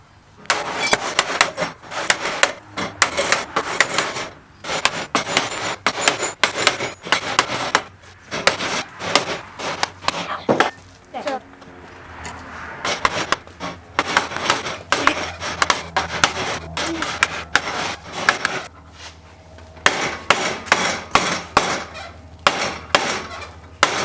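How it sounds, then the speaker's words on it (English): Repeated sharp metallic hammer blows bending clamped sheet metal on a VW Rabbit pickup's rear inner frame box section, in uneven bursts with short pauses between strikes and a brief stretch of rubbing, fairly close and loud. "Now we're just gonna hit it with a hammer and bend it down."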